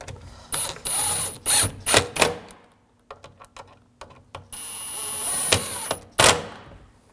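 A ratchet snugs down intake manifold bolts on a 2007-2013 BMW 328i with the 3.0L inline-six, making close, bright clicking bursts in several separate clusters with short pauses between them, and no talking.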